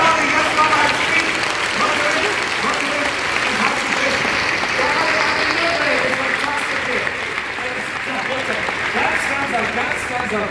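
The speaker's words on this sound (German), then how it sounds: "Ein Applaus für Gabi" Long, dense applause fills a Flic Flac circus show in Nürnberg, steady and loud throughout with crowd noise beneath, easing slightly toward the end.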